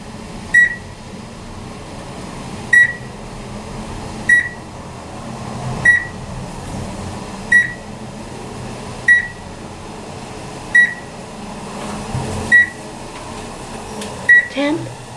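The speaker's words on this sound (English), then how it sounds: "These are the elevators in the main building here at the Wyndham Canterbury" An OTIS Gen2 traction elevator in the main building of the Wyndham Canterbury in San Francisco runs with a low hum, while a sharp chime or beep repeats roughly every one and a half seconds, with soft talk in the background.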